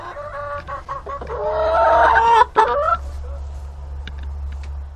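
Hens on a small backyard flock clucking and squawking together, rising into a loud burst of agitated cackling before settling back to scattered clucks, close by and with no talk.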